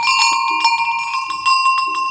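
Very old sheep bells from a big Romanian flock ring near and clear, a rapid cluster of bright metallic strikes that keep jangling without pause.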